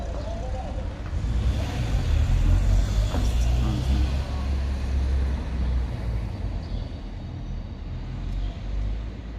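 Cars passing on a road during lockdown, a steady low traffic rumble swelling and fading as vehicles go by, with people talking faintly in the background.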